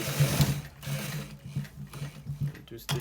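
A sewing machine stitches a shirt collar, its needle running in rapid rhythmic bursts with brief pauses, close and fairly quiet.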